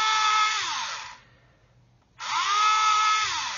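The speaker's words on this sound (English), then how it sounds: "I'm just gonna drill around here. Just drill a series of holes." A small power drill bores a series of holes in the plastic parts of a 1/32 scale HK Models Lancaster kit, whining in two close, steady bursts that wind down and spin back up, with no talking.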